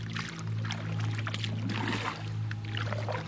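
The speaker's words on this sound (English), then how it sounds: "You can hear the river start picking up, you can also feel it." On the Elk River, water gurgles and trickles around a canoe, a close, continuous splashing wash over a low steady hum, with no talk.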